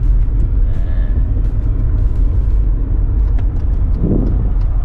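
A Mercedes-Benz W202 C220 with a 2.2-litre M111 engine and four-speed automatic runs steadily, a close, continuous low rumble with faint ticking on top and no voices.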